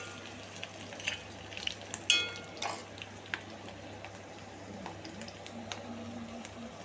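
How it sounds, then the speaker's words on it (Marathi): Potatoes fry in a pan for a spicy achari aloo dish, a faint steady sizzle with a few soft clinks and stirring sounds, rain-day indoor calm around it. "आपले बटाटे इकडे फ्राय होत आहेत"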